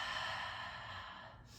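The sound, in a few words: deep breathing during yoga practice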